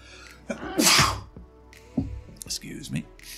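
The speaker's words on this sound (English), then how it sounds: "Oh, the sneeze." A person lets out one loud, close sneeze with a sharp explosive burst, followed by a few softer breathy sounds and shuffling.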